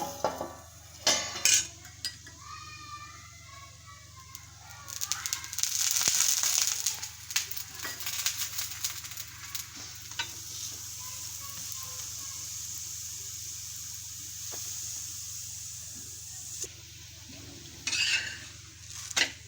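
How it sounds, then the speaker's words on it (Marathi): Thalipeeth, a Marathi multigrain flatbread made from bhajani flour, sizzles softly in a hot pan, with a steady frying hiss broken by scraping and clinking of a spatula and utensils. "हे बघा, आता हे थालीपीठ आपण दुसऱ्या बाजूने चांगलं भाजून घेऊया."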